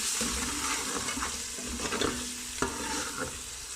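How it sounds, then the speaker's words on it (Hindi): Tomato sizzles and fries in a pan with ginger and garlic, a dense continuous crackle with occasional stirring scrapes and one sharper clack, close and loud, with no talking. "जब हमारा अदरक लहसुन फ्राई हो जाए तब हम इसके अंदर टमाटर डाल देंगे"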